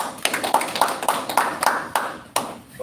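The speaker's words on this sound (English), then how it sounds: "Can we have a big applause for him," A few hands clap in a steady, sparse rhythm at an evening business presentation in Melbourne, each clap sharp and distinct, with one louder clap near the end and no talk over it.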